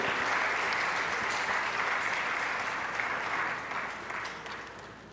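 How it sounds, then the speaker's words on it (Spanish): Dense applause fills a legislative session hall in Quintana Roo as students are welcomed, a thick continuous clatter of hands that gradually thins and softens toward the close. "Un aplauso a ustedes"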